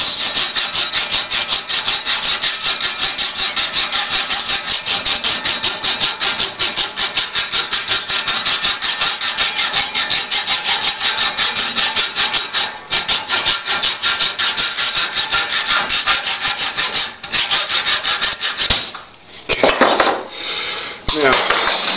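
Titanium rod for RC suspension links is sawn with fast, rhythmic rasping strokes, close and steady for a long stretch, then slows to a few broken strokes near the end.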